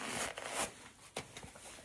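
A new pair of football boots is unboxed, with rustling packaging, paper crinkles and a few sharp tearing or rubbing bursts, close and moderately quiet.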